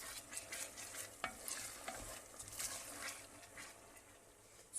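Tomatoes poured into a hot pan hiss and sizzle steadily, with a brief splash of liquid and a few stirring scrapes close by; no one speaks.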